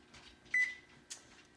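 Two short electronic beeps sound from an oven control panel as the preheat is set to 475 degrees, quiet and close, with a faint room hum behind them.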